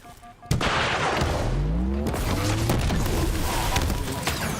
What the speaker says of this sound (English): In a hail of gunfire.